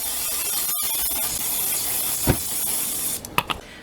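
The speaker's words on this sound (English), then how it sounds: "Now give it a spray with olive oil spray." A continuous pressurized spray hisses from an olive oil aerosol can, broken by a short pause and a few light knocks and clicks near the end.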